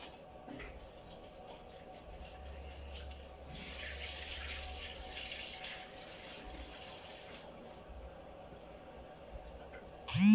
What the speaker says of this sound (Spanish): déjenme, voy a lavar las manos.